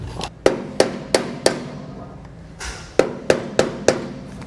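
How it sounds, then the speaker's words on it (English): A flathead screwdriver is hammered to knock the grease cap off a trailer axle hub with idler hubs, giving sharp metallic strikes: four evenly spaced blows, a pause, then four more close and loud. "take a flathead screwdriver there and get it between the two surfaces there on the hub and the grease seal and just sort of hammer it away"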